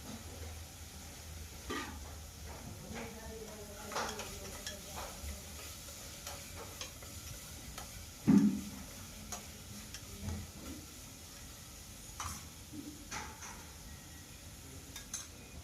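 Onion, spices and curry leaves frying in a pan for vangi bath, a soft steady sizzle with light ticking pops and occasional scrapes and clinks of a spoon stirring against the pan.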